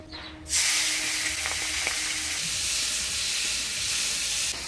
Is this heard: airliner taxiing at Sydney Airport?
no